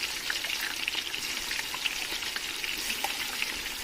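Tomato paste frying in a pot of party chicken stew, a steady close hiss of sizzling with light scraping and clicking from stirring throughout, no talk.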